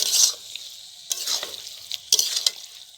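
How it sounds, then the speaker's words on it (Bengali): Vegetables for an eggplant dish are stirred and lightly fried in a pan with cloves, cinnamon and cardamom paste, giving short bursts of sizzling and scraping separated by quiet gaps. "সবজিটা দিয়ে দিন এটা একটু হালকা ভাজি নিন"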